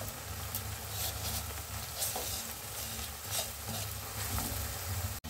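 A spoon stirs a dry mixture of makhana and sesame powder in a pan, a steady scraping, rustling hiss with soft periodic sweeps throughout.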